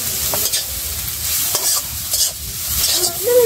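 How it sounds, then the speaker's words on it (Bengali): Fish is stirred into a sizzling vegetable charchari in a pan. Repeated scraping stir strokes rise and fall over a continuous, fairly loud frying hiss, with no voices. "এখন মাছটি দিয়ে দেবো, চরচড়িটা হয়ে গেছে, মাছটি আনা মিশানোই।"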